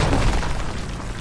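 A lightning strike in RuneScape: Dragonwilds brings a loud, close crack of thunder, a sustained crashing boom that holds near full strength throughout with slight crackle and no fade.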